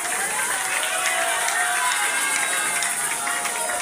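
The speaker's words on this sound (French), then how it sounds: "acclamons" Congregation applauding and cheering at a Congolese church gospel concert, a steady dense wash of clapping and crowd noise filling the hall throughout without pause.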